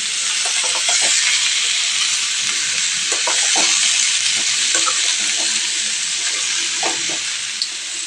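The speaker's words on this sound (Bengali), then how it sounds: "দেখো এটা দেওয়ার পর বেশ 5 মিনিট মতন ভালো করে এটাকে একটু নেড়ে দিতে হবে।" Malabar spinach, pumpkin and potato sizzle steadily in a frying pan as they are stirred, giving a loud, continuous frying hiss broken by scattered scrapes and clinks of the spatula, with no voices.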